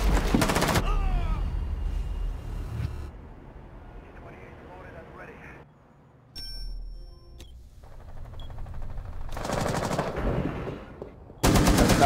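Bursts of automatic gunfire crack out in a shooter video game, loud rapid volleys at the start and again near the end, with people talking between them.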